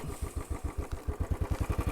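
Motorcycle idling at close range during a tight, full-lock U-turn at the edge of a road, its engine giving a steady, even low thump with no revving.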